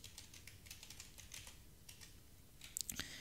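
Quick light keystrokes on a computer keyboard as a password is entered at a command line, a soft run of clicks ending in a sharper cluster of taps, close and quiet with no talking.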